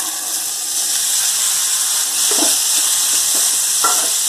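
Boiled chickpeas for sundal sizzle and fry in a pan with dried red chillies and curry leaves, a steady close hiss broken by a few scraping stirs, with no talking.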